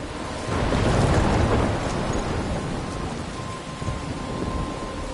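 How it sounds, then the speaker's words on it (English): A thunderstorm rumbles in the video game Life is Strange, with a deep roll of thunder swelling early over steady, dense rainfall that continues throughout, with no voices. "I'm trapped in a storm?"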